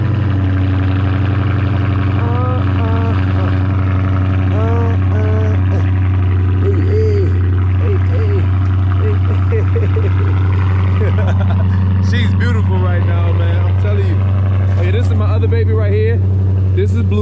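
A 2019 Chrysler 300S idles with a steady, deep low rumble held close and loud throughout, while someone talks over it.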